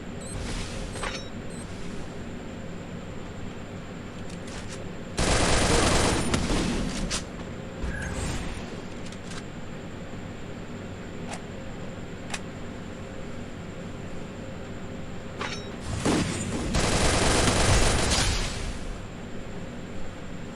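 Loud bursts of MP40 submachine gun fire in the Free Fire battle royale game, two sustained volleys around a minute apart over a steady mechanical background with scattered sharper single shots.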